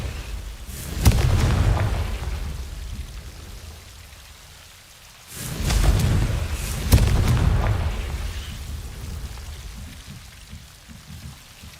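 Confringo fire spell in Hogwarts Legacy bursting twice as deep rumbling blasts, each swelling then fading into a low roar, loud and near with no talk.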